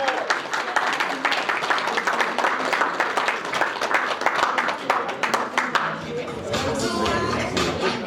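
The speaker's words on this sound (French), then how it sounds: "Applaudissez pour le couple." Wedding-anniversary guests in Beaune, France applaud a couple with dense, sustained clapping from a sizeable crowd, which thins near the end as music and chatter rise underneath.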